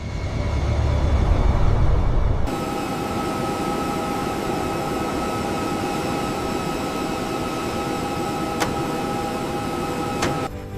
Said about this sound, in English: Dreamliner Heavy, runway 16 right, cleared for takeoff.